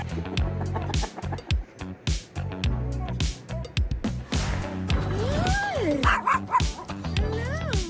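Several dogs bark repeatedly on a boat, loud and close, with short yips and overlapping woofs, while a dolphin surfaces alongside; some clucking, fowl-like sounds and voices mix in.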